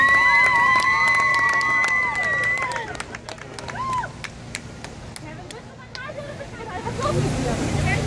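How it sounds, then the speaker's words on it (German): At an outdoor demonstration in Munich, a crowd breaks into clapping and cheering after music fades. The applause is scattered and moderately distant, then swells into a broad, noisy wash. "Bitte einen Applaus."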